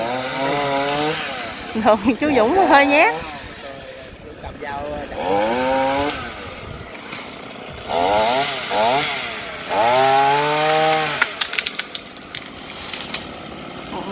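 A chainsaw whines in short buzzing bursts as a climber high in a tree cuts into Tràm Bông Vàng and eucalyptus trunks, mostly under the talk of people on the ground.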